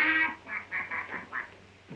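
A man imitates duck quacks with his voice, a nasal call followed by a quick run of repeated quacks and a short pause, clear and close.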